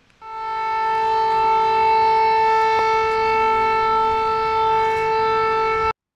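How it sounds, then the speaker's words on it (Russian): Civil defense siren sounding over a city, a loud, steady, sustained wail holding one pitch for about six seconds before cutting off abruptly. "Зараз тишу порушила сирена."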